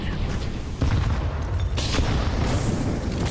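A grenade explodes in a video game amid loud continuous battle noise, with a heavy thump near the start and a sharper burst a second later, rumbling and close throughout.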